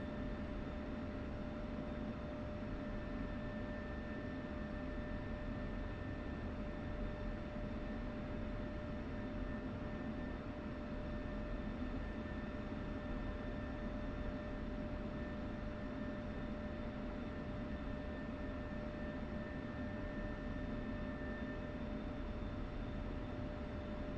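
Aircraft engines in the DCS flight simulator game as a heavily loaded jet taxis and takes off, a steady broadband roar with a constant whine, unbroken and fairly distant throughout, with no voices.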